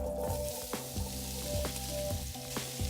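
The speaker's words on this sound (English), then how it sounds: "Add the vegetables to the Dutch oven." Vegetables browning in a Dutch oven sizzle steadily, a dense close hiss with occasional stirring taps and scrapes, no voices.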